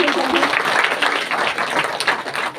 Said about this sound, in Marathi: सगळ्यांनी जोरदार टाळ्या वाजवा मावशीसाठी